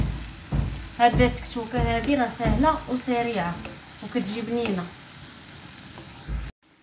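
Tomato and roasted pepper tektouka fries in a pan with a constant sizzle and stirring noises, heard under a woman's speech throughout.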